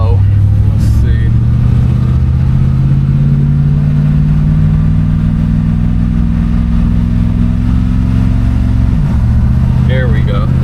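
A 1969 Ford Fairlane engine pulls steadily under acceleration, its low drone holding loud and even before dropping sharply near the end as the transmission shifts up, then settling at a lower pitch.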